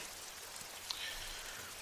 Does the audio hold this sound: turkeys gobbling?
no